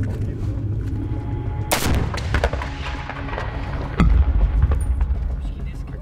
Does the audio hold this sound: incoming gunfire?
yes